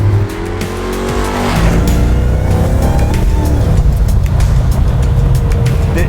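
A 1969 Dodge Daytona with a big-block V8 accelerates hard, its loud, close engine note swelling into a steady, dense roar that holds for several seconds with a touch of tire noise.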